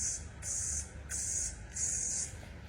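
A voice mimics a rotating lawn sprinkler with four rhythmic bursts of hissing, each about half a second, separated by brief gaps, close and fairly loud.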